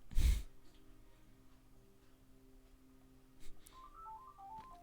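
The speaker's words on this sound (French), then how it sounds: "c'est totalement mon téléphone fixe qui sonne" A landline telephone rings faintly indoors, its short electronic ring pattern arriving near the end over a quiet background hum.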